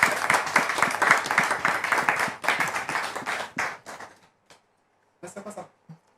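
Audience applause welcoming a guest onto a stage: steady, close clapping that tapers off after about four seconds, followed by a few scattered claps.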